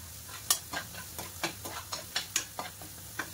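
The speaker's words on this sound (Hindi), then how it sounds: "हल्का सा ब्राउन करेंगे, बिल्कुल लाइटली ब्राउन, डार्क नहीं होना चाहिए, लहसुन जलना नहीं चाहिए।" Eight to ten garlic cloves fry in a pan while a spoon stirs them, giving a steady sizzle punctuated by a dozen sharp scraping taps in an irregular rhythm, close and clear.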